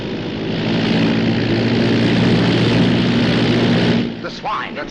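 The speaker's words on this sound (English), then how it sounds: "That's a pickup plane." A propeller-driven pickup plane coming in to land drones loudly and steadily overhead, its engine fading near the end as voices begin speaking.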